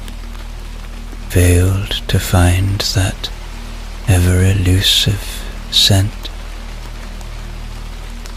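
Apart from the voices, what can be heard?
rain tapping on windows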